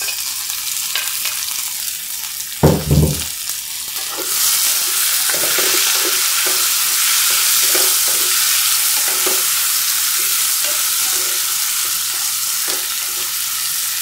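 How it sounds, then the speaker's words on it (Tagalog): Onions and tomatoes sauté in a pan with a soft thud, then a loud, steady sizzle rises and holds, broken by the light scrapes of stirring, close and continuous with no talk. "isasangkutsa muna natin siya ng 3 minuto mga Chuki para mas maluto pa yung ating kamatis"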